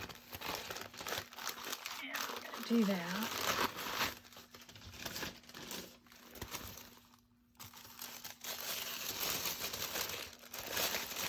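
Silver junk mail paper crinkles and rustles as it is handled, in brief bursts of crackling spread through the clip, with a person talking over much of it.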